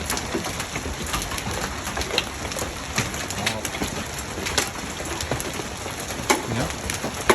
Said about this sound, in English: Sounds bad, it hits that tin, eh?